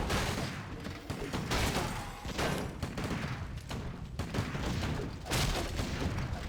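Mortar teams fire siege attacks in a Warcraft 3 match, a dense, continuous barrage of booming shots and impacts layered with battle noise, steady and busy throughout, with no clear talk.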